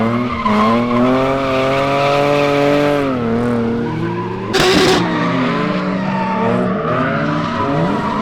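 Car drifting at a drift event, its engine revving through rising and falling gear pitches with a loud burst of tire squeal midway, close and continuous with no talking.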